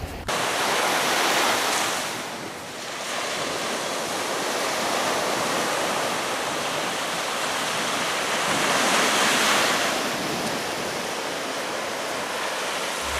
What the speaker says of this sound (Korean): 바다의 파도 소리는 마음의 안정제고 웬만한 처방제 약보다도 효과가 좋습니다.